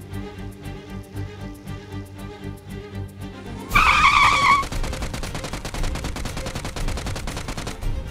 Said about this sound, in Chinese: 两边都听到车声